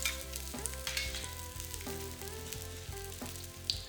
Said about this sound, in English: Stir fry this ginger for about 30 seconds to 1 minute till it's fragrant. Then add in the garlic